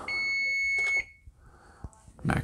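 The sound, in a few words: kitchen timer beeping when macarons finish baking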